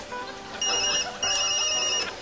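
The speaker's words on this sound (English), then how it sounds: "ever since breakfast my phone's been ringing off the hook" A Toot Tone novelty phone ringtone made of fart sounds plays from a mobile phone in two loud tonal bursts, each sustained for about a second, close and alone.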